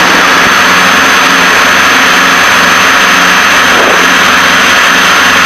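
Twin turbocharged engines of a Piper Seneca multi-engine aircraft roar loudly and continuously from inside the cabin, a steady droning hum at high power with no talk over it.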